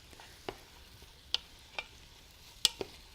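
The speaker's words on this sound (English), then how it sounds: "I'm just going to stir up these vegetables and get them coated in olive oil" Sparse spoon knocks and scrapes against a pan as vegetables and minced garlic are stirred in olive oil, with about six sharp taps over a faint, quiet background.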